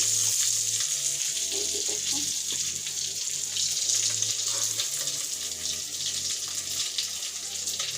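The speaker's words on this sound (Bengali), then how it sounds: "এইভাবে করে সব মাছ ভেজে নেব" Koi fish frying in hot oil for a mustard fish dish, a continuous close hiss and crackle of sizzling oil that holds steady throughout with no talking.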